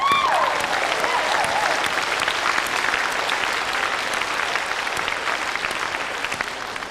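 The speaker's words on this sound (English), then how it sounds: "And give yourselves a big triangle of applause." Steady, dense applause from a seminar audience fills the room, holding at a constant loud level and tapering slightly toward the end, with no talk over it.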